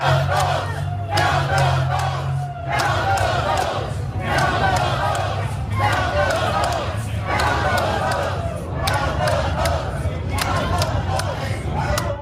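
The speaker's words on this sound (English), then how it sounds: "chanting to count the vote" A crowd of protesters in Arizona chants "count the vote" in loud, rhythmic bursts, the group voices rising and falling in a repeated cadence over a constant background rumble.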